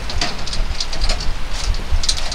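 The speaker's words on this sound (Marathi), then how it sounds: "आता पाऊस चालू झालेला आहे" Rain falls during a ride in an open tempo vehicle, a dense continuous hiss and patter with low rumbling beneath, fairly loud and steady throughout.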